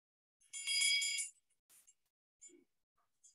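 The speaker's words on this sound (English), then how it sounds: "So it's definitely a bell." A small engraved award bell rings once in a quiet meeting room, giving a bright, clear ding with a short decay, followed by a few faint clinks.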